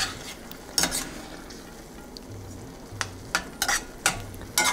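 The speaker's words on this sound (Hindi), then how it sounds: "और ये कसूरी मेथी है मेरे पास, वो भी 1 चम्मच के करीब है, उसको डाल देता हूँ, और इनको सबको मिक्स कर देते हैं।" Spices and kasuri methi fried and stirred in a pan for a mutter mushroom makhana sabji, with a steady low sizzle and several sharp spoon scrapes clustered near the end, no talking.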